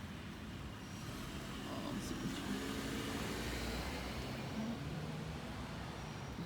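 A car passes slowly at a distance, a faint low rumble that swells gently in the middle and fades, over quiet outdoor background.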